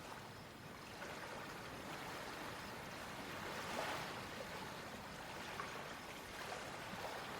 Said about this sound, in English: I inexplicably hear water around us